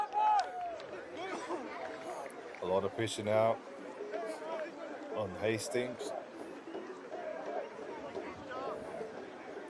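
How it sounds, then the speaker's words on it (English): Crowd at a school 1st XV rugby match between Gisborne Boys' High and Hastings Boys' High, a steady murmur and cheering swelling in bursts underneath a commentator talking throughout. "you can hear the crowd getting into it"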